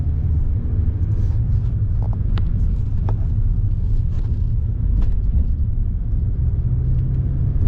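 Steady road rumble and engine drone from a car driving through Midtown into downtown Detroit, continuous and close with a few faint higher chirps above the low roar.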